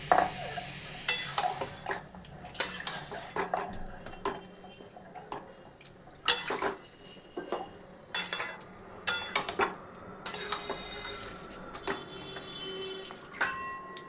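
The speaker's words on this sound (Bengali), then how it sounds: "মাংসটাকে এবার ভালো করে ঢাকা দিয়ে দিয়ে আমায় কষতে হবে" Goat meat cooking covered in a pan for a papaya goat korma, with intermittent clinks and scrapes of a spoon against the pan over a low background sizzle; no voices.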